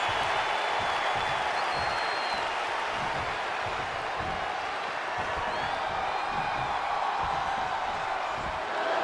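Arena crowd in the WWE 2K20 wrestling video game, a steady wall of applause and cheering that holds at an even level throughout, filling the space continuously.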